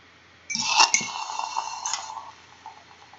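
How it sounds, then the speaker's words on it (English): Hot glass breaking off in water during glassblowing, a sudden sizzling hiss with bright crackling and a few sharp ticks, close and fading over a couple of seconds. "that sound is the sound of hot glass in water breaking off"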